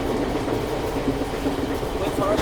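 A train ride in Kashmir near Srinagar, heard from inside the carriage as a continuous loud low rumble and rattle of the running train.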